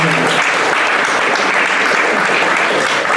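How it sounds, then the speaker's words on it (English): Round of applause for the panelists at an entrepreneurial panel, loud, dense and steady clapping from the audience throughout. "Can we please have a round of applause for Senna Jordan,"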